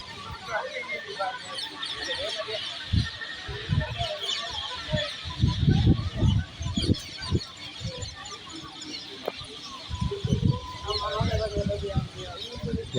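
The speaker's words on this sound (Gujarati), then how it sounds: "અહીંયા જોવો મિત્રો કેટલા પોપટ બેઠા છે" A big flock of parrots sitting in trees fills the air with continuous shrill squawking and chatter, heard beneath someone speaking close by.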